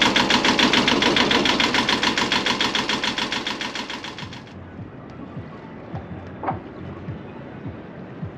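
A boat engine on a sailboat off Oahu, just repaired, runs loud and steady with a fast rhythmic chug for about four seconds, then cuts out, leaving quiet background with faint clicks.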